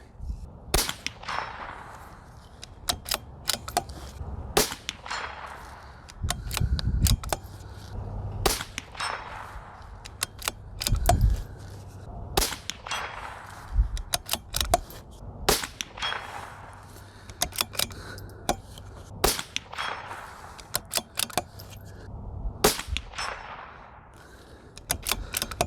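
Repeated sharp rifle shots from a CZ 457 Varmint precision chassis rifle, each loud crack followed by a ringing metallic clang from distant steel targets, spaced a few seconds apart outdoors.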